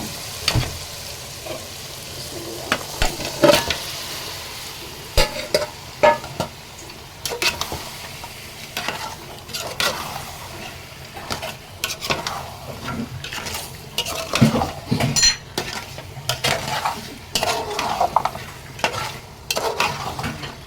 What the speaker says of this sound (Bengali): আস্তে আস্তে ভালোভাবে চিকেনগুলো মিশিয়ে নিলাম